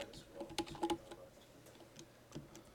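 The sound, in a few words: typing commands on a computer keyboard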